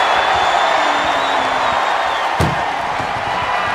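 Wrestler launched into an ambulance in the WWE 2K25 video game: one sharp heavy slam rings out midway over a steady roar of arena crowd noise and commentary bed.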